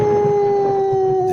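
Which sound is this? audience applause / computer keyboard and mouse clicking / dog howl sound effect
dog howl sound effect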